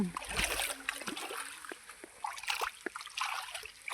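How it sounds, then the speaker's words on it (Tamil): Water flowing through a field channel trickles and splashes close by in an uneven, bubbling flow, with small spurts and gurgles throughout. "இந்த பக்கத்து காட்டு தண்ணி பாருறதுனால தண்ணி போயிட்டு இருக்குது"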